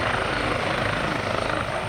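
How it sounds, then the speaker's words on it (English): A Chinook helicopter's twin rotors thump and roar continuously at an RAF airshow, loud and close, with a dense, steady chopping drone. "That is, of course, the Chinook helicopter."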